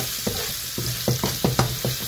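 Garlic frying in a pan for patola and miswa soup, with steady sizzling under a series of rhythmic scraping stirs, close and fairly loud.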